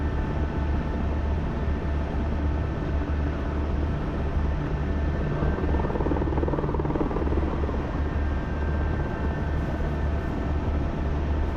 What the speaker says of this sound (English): John Connor, can you fly choppers in this?